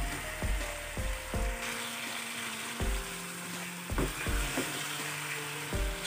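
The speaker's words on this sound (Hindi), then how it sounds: "चिकन को हमने फ्राई किया है लेकिन अभी भी इसका पकना बाकी है" Chicken pieces fry in a pan for Chicken Changezi, giving a steady close sizzle broken by a series of sharp spatula knocks and scrapes against the metal, with no voices.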